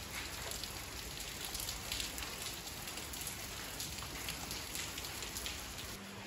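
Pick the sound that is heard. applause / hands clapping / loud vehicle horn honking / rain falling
rain falling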